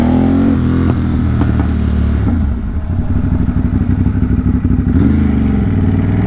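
Triumph motorcycle engine on a city ride in Brooklyn, a steady loud rumble with shifting revs and some road clatter, heard close throughout with no voices.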